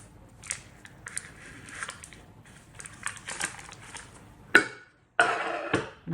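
A vinyl-photopolymer stamp is peeled off a sheet of glass, giving close, crackly tearing bursts that end in a louder, longer rip, with no talking.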